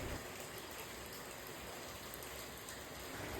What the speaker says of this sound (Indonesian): Kelar ngegoreng langsung hujan dong